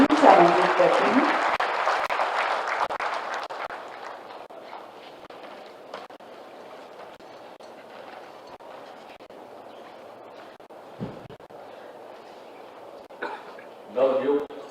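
Applause welcoming the Chief Minister at a government appointment-letter ceremony for newly appointed veterinary and fisheries development officers, loud at first, then fading into a long thinning patter of scattered claps with a few louder bursts near the end.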